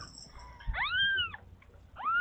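A kitten meows loudly in close, drawn-out rising and falling calls, two long cries with a shorter one beginning at the end, against a quiet background.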